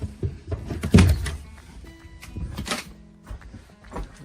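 A broken storage door is pulled open with a close, loud thunk followed by scraping, rattling and knocking as it moves.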